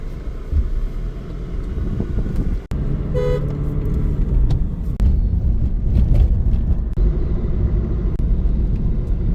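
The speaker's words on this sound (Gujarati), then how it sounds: "આપણે જઈએ છીએ નાની 4 વ્હીલ લઈને." A small four-wheeler car drives along a road, its engine and tyre rumble steady and close from inside the cabin, with a brief horn toot partway through and no talk.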